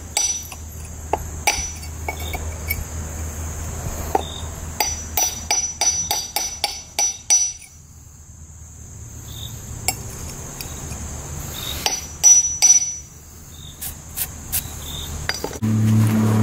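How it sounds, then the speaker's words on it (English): Hammer and chisel striking a stone slab along a marked split line, with repeated sharp metallic taps in irregular clusters and a pause midway, close and clear over a faint steady hum. "I'm going to go ahead and just chisel across the line"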